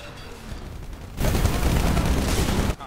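Rapid gunfire in Titanfall erupts suddenly after a second of quieter game sound, a dense loud burst of automatic shots lasting about a second and a half before cutting off abruptly.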